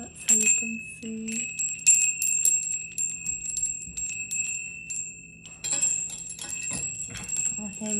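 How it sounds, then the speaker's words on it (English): A bird-nest wind chime rings in repeated bright, sustained tones with shimmering overtones, struck several times in clusters, close and moderately loud, with faint handling noise between strikes. "And it is a wind chime. It has a nice sound to it."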